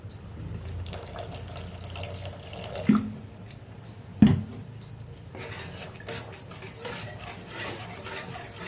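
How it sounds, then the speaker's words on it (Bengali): Water added to a pan of shahi paneer while cooking, a soft continuous pouring and splashing with two sharp metallic knocks of utensil on pan midway, close and fairly quiet, without speech. "তো অল্প পরিমাণে জল দিয়ে দেব।"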